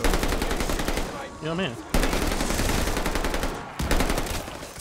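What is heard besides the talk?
shotgun fire in Call of Duty: Vanguard Zombies video game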